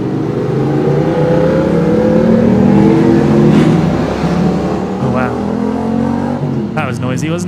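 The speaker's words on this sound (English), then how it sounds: "A couple of motorbikes, or 2 or 3 motorbikes going by." Two or three motorbikes pass near an airport at twilight, a loud roaring engine drone swelling and fading with shifting pitch, followed by sharp scraping clicks at the close.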